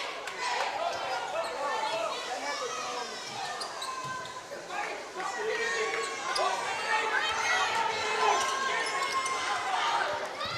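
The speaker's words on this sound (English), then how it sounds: "James, we've got a nice crowd on hand here, pal." A crowd murmurs through a girls' high school basketball game in a gym, with a ball bouncing and a commentator talking over the steady hubbub.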